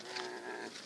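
Goats and other livestock calling in open wilderness near Kadesh and Mount Hor, Jordan, a single drawn-out bleat ringing out clearly at moderate distance over a steady outdoor background.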